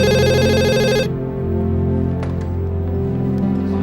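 A telephone rings with a bright, steady electronic tone for about a second, then stops, leaving a humming background of music or room tone.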